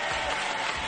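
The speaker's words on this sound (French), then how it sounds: "Applaudissez Catherine et Maximilien." Brief burst of studio audience applause on a French TV game show, a dense wash of clapping cut short after less than a second, with no voices over it.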